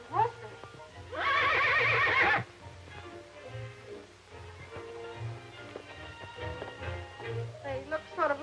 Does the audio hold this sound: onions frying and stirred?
no